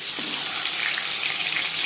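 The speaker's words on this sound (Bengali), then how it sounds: "মাছ ভাজা হয়ে গেছে।" Pieces of tilapia fish fry in hot oil in a kadai, giving a steady, dense sizzle that stays close and loud for the whole stretch, with no voices.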